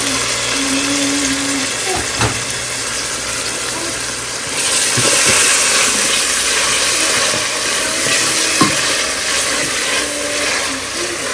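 Steady sizzling of onions frying with ginger and garlic paste in a pan, with occasional stirring clatter, close and fairly loud throughout, no voices.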